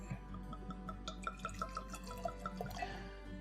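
Pinhook Kentucky straight bourbon whiskey trickles from the bottle in a faint, close, continuous pour with small dripping splashes, with no voices.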